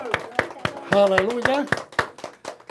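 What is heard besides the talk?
congregation applauding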